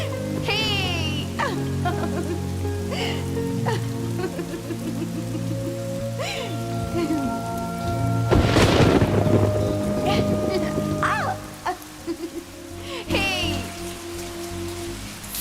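Rain falls steadily, a constant hiss and patter of drops that swells into a heavier burst midway, with voices and music playing over it.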